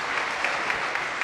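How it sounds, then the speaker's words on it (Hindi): A church congregation applauds loudly, a dense steady wash of many hands clapping together for the whole moment, with no talk over it. "जोरदार तालियां बजाएं।"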